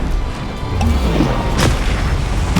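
A Bombarda blasting spell explodes in Hogwarts Legacy, a loud booming burst over dense game combat noise and music, with a second sharp blast following about a second later.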